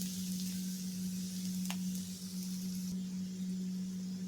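Bitter gourd frying in a pan with crushed garlic, giving a steady, even sizzle and crackle that stays constant throughout, with one brief faint clink midway and no talking.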